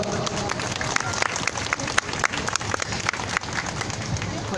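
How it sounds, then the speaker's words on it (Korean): A crowd at an outdoor rally claps for a high school student speaker, giving a few seconds of steady, moderately loud applause. "다시 한 번 더 박수 보내주시기 바랍니다"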